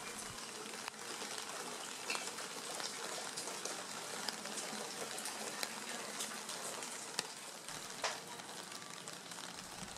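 Rain falls steadily on a Kyoto street lined with restaurants, a dense, even hiss of drops with occasional small taps, moderately quiet and with no voices.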